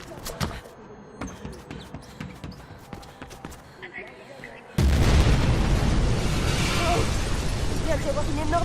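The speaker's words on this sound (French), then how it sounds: "Il vient d'y avoir une énorme explosion." A huge explosion erupts in Mirror's Edge Catalyst, a sudden loud burst that gives way to a sustained roaring rumble, coming after quieter game ambience with faint taps and clicks.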